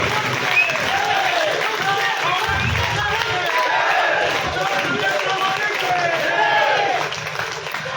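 An audience claps steadily to welcome a guest onto the stage at a public meeting in Vadakara, a continuous crowd wash with voices mixed in.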